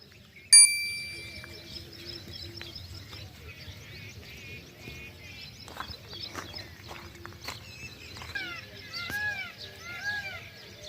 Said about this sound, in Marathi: मोरांचा आवाज केकावली